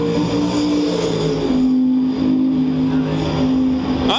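Race car at Kalamazoo Speedway during a track record attempt, engine roaring steadily near and loud with a rising pitch as it accelerates down the track, crowd and track noise underneath.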